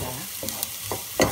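Garlic is stirred and sautéed in a hot frying pan alongside onion, a steady close sizzle broken by a few scraping strokes of a utensil against the pan.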